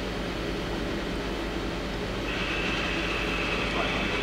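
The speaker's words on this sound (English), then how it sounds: "Now we'll run the live tool." Live tool spinning up on a Hyundai-WIA L400LMC CNC turning and milling center, a steady machine whine rising partway through over constant workshop hum, fairly close.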